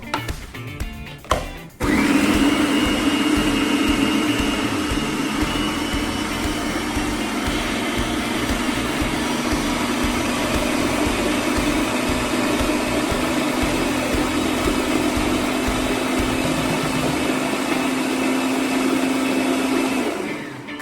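A kitchen blender whirs loud and steady for about eighteen seconds as it purées strawberries, after a brief clatter at the start.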